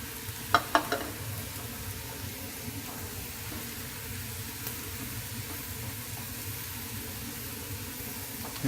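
Eggs sizzle steadily in a pan with ground beef and wilting spinach, a constant frying hiss with a few sharp clinks of a utensil near the start.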